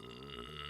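A single close burp heard on its own, a low guttural belch with a rough, voiced tone that holds steady for just under a second.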